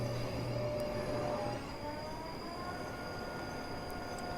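A train in Train Simulator 2015 runs steadily on the rails with a continuous low rumble and faint high squeals and tones, holding an even level throughout without speech.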